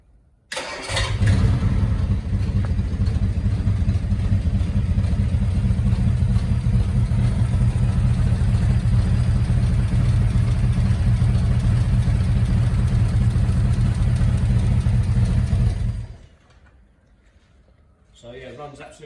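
Ford-engined Supervan 3 with a serviced gearbox and rotted, blowing exhausts cranks and fires, then runs at a loud, steady, rumbling idle for about fifteen seconds before cutting off abruptly, close to the microphone.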